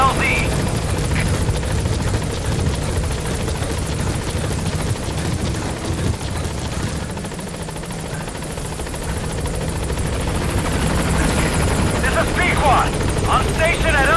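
The Pequod helicopter in the video game Metal Gear Solid V: The Phantom Pain arrives at a landing zone, its rotor a loud, steady drone, with radio voices over it.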